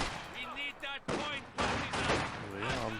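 Company of Heroes 2 battle gunfire comes as rattling bursts and volleys of automatic fire, mixed with excited voices talking over the action.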